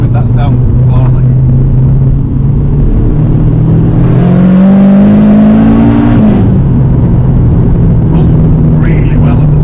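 A turbocharged Honda K20 engine in an EP3 Civic Type R revs loudly and close by, the pitch rising to a peak and then falling back to a steady drone, with people talking over it.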